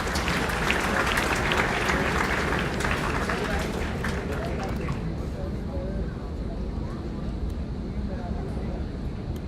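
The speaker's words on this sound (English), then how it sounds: "address the audience with a huge round of applause." A large audience at a tech event claps in a dense, loud round of applause that continues throughout, gradually thinning and softening in the second half.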